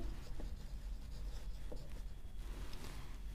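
Writing on a board during a class 11 maths lesson: faint, steady scratchy strokes repeating in quick succession, quiet and close.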